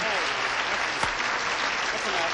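Studio audience on the 1972 syndicated game show Hollywood Squares breaks into broad, even applause, a steady wash of clapping with a faint voice or cue briefly cutting through near the middle.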